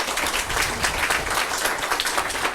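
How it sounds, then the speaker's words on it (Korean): An audience at a ceremonial declaration event applauds to welcome a soprano and pianist, a steady, dense wash of many hands clapping at moderate distance, without speech. "여러분 박수 부탁드립니다."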